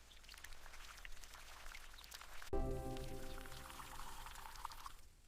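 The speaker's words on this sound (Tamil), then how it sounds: "அதனால நம்ம இறைச்சி எல்லாம் நல்ல கழுவி எடுத்துக்கணும்." Tap water pours steadily while raw meat is washed in a 3D-animated cooking scene, a sudden splashy rush starting midway and continuing as a constant close hiss with no talk.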